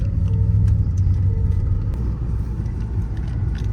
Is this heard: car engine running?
yes